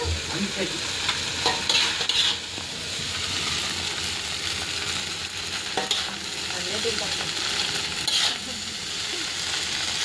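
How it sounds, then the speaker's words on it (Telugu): Chili spices are stirred into food frying in a pan, a continuous close sizzle with scraping strokes of a spoon and occasional clatters against the metal. "ఇది ఇలా కలుపుకుంటే మంచిగా వస్తుంది అన్నమాట. కలపకపోతే కారం ఒకే చోట పడేస్తుంది."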